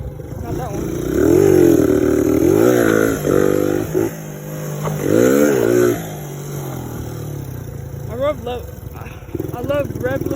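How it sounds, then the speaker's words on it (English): A Suzuki DR100 motorcycle engine revs repeatedly up to its rev limiter, rising and bouncing in loud close bursts, with a person talking over it and wind rush between revs. "I love rev limiting it in there."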